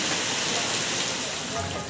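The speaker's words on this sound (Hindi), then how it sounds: "देखिए कितनी तेज बारिश हो रही है भाई" A downpour of heavy rain, the season's first, with a steady dense broadband hiss that stays loud and unbroken throughout.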